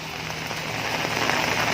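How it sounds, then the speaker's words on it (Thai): Heavy rain pouring steadily in Pong Nam Ron district, Chanthaburi, Thailand, a dense continuous hiss of drops on surfaces that swells slightly louder toward the end, with no talking. "ตอนนี้ฝนตกหนักมากนะครับ"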